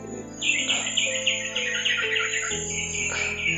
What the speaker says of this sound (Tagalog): May uwak po.